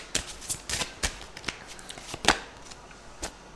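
Tarot cards being shuffled up close, a series of crisp riffling snaps and slaps in uneven bursts, fairly loud and with no one talking.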